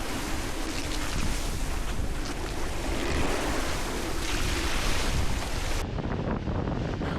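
Strong wind buffets the microphone at sea while a sailboat runs on a broad reach in heavy weather, Force 6 to 8, with waves surging and breaking alongside in loud, continuous roaring gusts and no voices.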